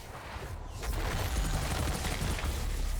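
Pistol fire in the video game Outriders, a dense run of sharp shots with booming low-end rumble, fairly close and with almost no talk.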